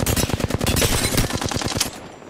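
Rapid automatic gunfire in the Apex Legends video game, a loud close burst of evenly spaced shots that cuts off near the end.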